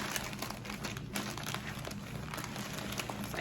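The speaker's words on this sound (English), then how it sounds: "So let's see if this will fit inside this little plastic envelope." A vintage clothing item is handled and pushed into a small plastic mailing envelope, making continuous close crinkling and rustling of plastic over a few seconds.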